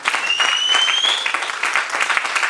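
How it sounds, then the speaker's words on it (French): Congregation applauding and cheering in a church service, dense steady clapping from a crowd throughout with a faint whistle-like tone early on. "Est-ce qu'on peut acclamer le Seigneur?"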